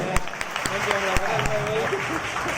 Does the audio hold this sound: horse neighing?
no